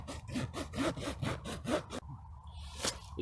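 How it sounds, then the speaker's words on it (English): A thumbnail scratches bone-dry nylon fabric in rhythmic, close strokes, producing a raspy, deep rubbing sound for about two seconds before it stops and a single faint scrape follows. "It's a very raspy, deep sound, and if you're not sure of its denier, scratch it with your nail."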